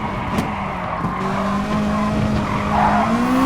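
A race car in a racing game at Bathurst skids under too much throttle, its tires squealing in a long rising whine over a steady engine drone, loud and close throughout.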